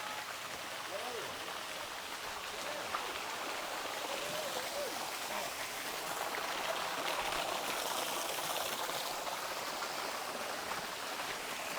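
Continuous rushing water from a nearby stream at Batis Marahuyo, a steady broadband wash with no clear breaks, with faint voices now and then underneath.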